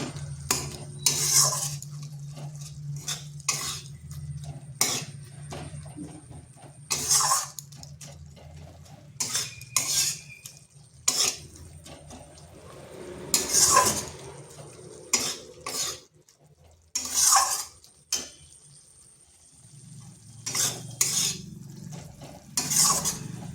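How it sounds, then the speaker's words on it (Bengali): Spice masala with tomato being stirred and fried in a pan, irregular clanks and scrapes of the spoon against the pan over a faint sizzle, with quiet gaps between bursts, and no talking. "এরপর মশলাটা ভালো করে কষে নিতে হবে। 2 থেকে 3 মিনিট একটু সময় ধরে কষতে হবে, যাতে টমেটোটাও ভালোভাবে গলে যায়।"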